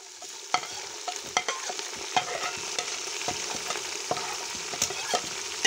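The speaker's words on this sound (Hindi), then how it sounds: "अब हम इसमें डालेंगे लहसुन अदरक का पेस्ट" Garlic ginger paste fries in a pan for vegetable rice, giving a steady close sizzle with frequent clicks and scrapes from stirring.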